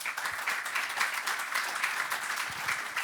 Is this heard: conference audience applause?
yes